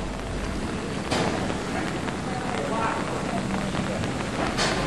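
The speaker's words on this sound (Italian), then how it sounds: "Più che a dirotto, piove a dirnove, ecco." Heavy rain pours down in a dense, steady hiss, with a couple of brief louder splashy surges over the constant downpour.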